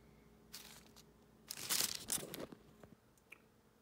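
Cutting a piece of filter bag material for a 10-ton rosin press makes a quiet crinkling, tearing rustle that swells for about a second, with a few faint snips before and after, close by.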